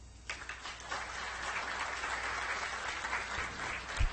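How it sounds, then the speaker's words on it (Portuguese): Audience applause at a panel session of a conference, a dense steady patter of many hands clapping at moderate volume, starting abruptly and holding evenly with no talk. "Podemos aplaudir."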